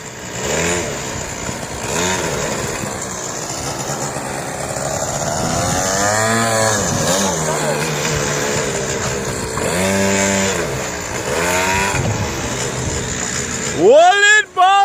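A motorcycle engine revs hard during street stunting in Jamaica, the loud rising and falling whine repeating over several passes, with people shouting close by and a sharp high rev at the end.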